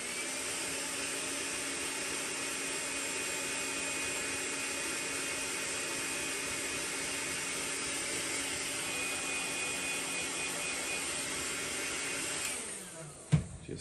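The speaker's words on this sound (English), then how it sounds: "I'm going to take my dryer and heat this just for a second." A hair dryer blows a steady, close-up whoosh while heating epoxy paint on a fishing lure, running evenly before cutting off near the end with a brief clatter.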